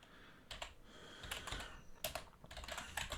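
Keystrokes on a computer keyboard as a Linux terminal command is typed, a series of close, crisp clicks coming in bursts with short pauses between them and no talking.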